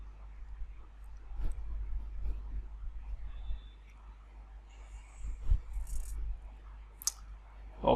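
Computer keyboard typing, soft scattered key clicks at close range in a quiet room, irregular and faint.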